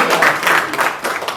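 Brief burst of audience clapping at a song launch event, a close, dense patter of hands lasting just over a second.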